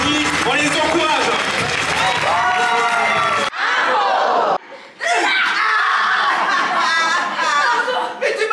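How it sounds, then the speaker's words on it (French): An improv show audience in Lanton cheers, shouts and claps for the performers. The crowd noise is loud and excited, with voices high and prominent, then breaks off suddenly and picks up again. "Et on vous applaudit, on les encourage!"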